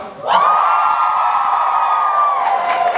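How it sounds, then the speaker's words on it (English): A large convention crowd at a panel Q&A screams and cheers loudly, a sustained high-pitched roar of many voices that swells in and holds steady. "can you guys scream again one more time?"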